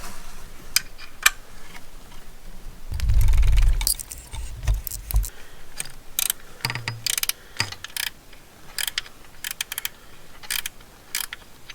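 A ratchet clicks in quick bursts while loosening the timing belt on a Jeep Liberty CRD diesel engine, with metallic clanks and tool rattles between the strokes in a close workshop setting.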